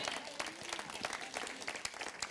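A congregation bursts into applause during a French-language church sermon, a dense, steady wash of many hands clapping together, moderately loud, with no speech over it.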